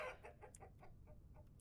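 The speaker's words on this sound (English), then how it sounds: "So now we have a rooster" Rooster in the video game Vintage Story clucking: a quick run of about eight short, soft clucks in a steady rhythm, close but quiet, with no talk.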